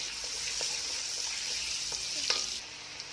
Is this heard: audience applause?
no